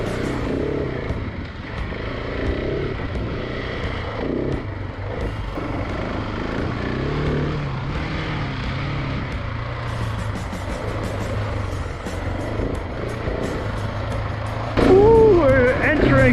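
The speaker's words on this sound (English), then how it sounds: "Let's see if the 701 Enduro can tag along with a lightweight performance dirt bike." KTM 701 Enduro and KTM 250 EXC dirt bikes ride a pea-gravel trail, their engines droning steadily and close throughout with rising and falling revs, a louder surge near the end, and a voice talking over the engines.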